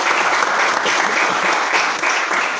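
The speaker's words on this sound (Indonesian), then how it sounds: "Kasih tepuk tangan buat Tuhan Yesus." A church congregation at GBI S56B in Depok bursts into loud, dense applause for Jesus, a thick, continuous wash of clapping close by with no voices.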